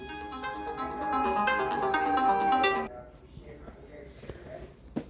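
A phone ringtone plays a bright repeating melody for about three seconds, then cuts off, leaving quiet room noise.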